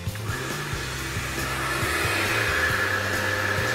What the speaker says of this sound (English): Got the pressure washer over there, but we're gonna clean all this front sidewalk, the steps, everything.